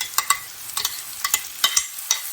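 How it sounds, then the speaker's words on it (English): Minced mushrooms sweating in a hot pan give a soft, steady sizzle, broken by a series of sharp clicks and scrapes as a utensil stirs them, with no talking. "So we're going to sweat these mushrooms down a little bit"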